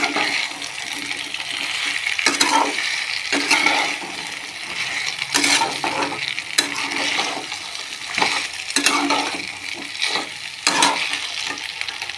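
Ridge gourd and potatoes fry in a pan with a loud, close, continuous sizzle, marked by repeated scraping bursts as the spatula stirs, with no one talking.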